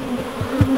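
Honey bees buzz around a hive after a swarm has left, a close, continuous hum with a few louder passes as individual bees fly near.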